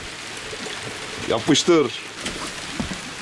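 Rain falls steadily at a harbour during a fishing trip for sea bass, a soft continuous hiss under a short burst of nearby talking.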